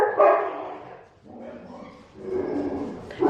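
Several Labradors and beagles bark and yip loudly close by in repeated bursts, with a short lull in the middle before the barking picks up again.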